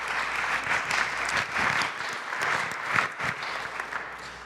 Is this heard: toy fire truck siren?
no